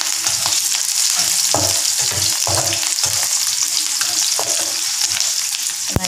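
Snake gourd kootu ingredients fry steadily in a pan, a continuous close sizzle with occasional stirring scrapes and clicks, no talk.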